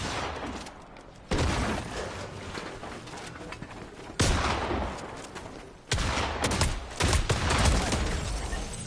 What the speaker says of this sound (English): I haven't tried to shoot someone with a harpoon gun in so long.